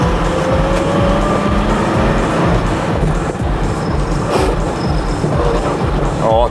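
A car with a manual gearbox running without oil drives and accelerates, its engine droning loudly and continuously with rough rhythmic mechanical grinding and whine close by.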